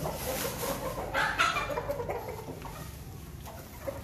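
Several chickens cluck and murmur nearby in a loose, irregular chatter, with a couple of louder squawks rising over the flock's background noise.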